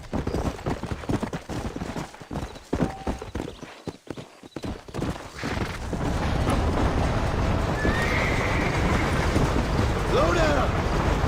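A horse in the Red Dead Redemption video game gallops and neighs, with loud hoof clatter merging into steady wind-like rushing noise, while game speech plays faintly underneath.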